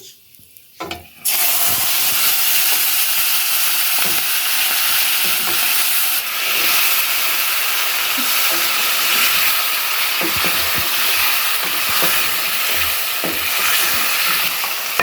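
Beef pieces fry with whole garam masala in a pan for a beef korma, giving a loud, steady broadband sizzle that starts abruptly after a brief clatter and carries on unbroken with faint scraping underneath.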